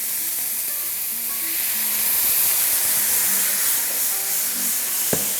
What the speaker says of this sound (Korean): 여기서 이제 이 데리야끼 소스를 넣고